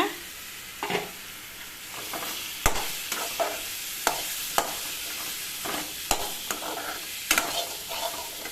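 Rice flour kozhukattai dropped into a pan of green chili and curry leaves, frying with a low sizzle broken by sharp, close clacks and scrapes of a spatula, with no voices.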